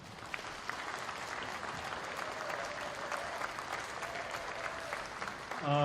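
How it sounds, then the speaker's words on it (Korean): An audience at a book launch event applauds steadily throughout, a moderately quiet, even wash of many hands clapping with no break. "여러분들 큰 사랑의 박수를 부탁드리겠습니다"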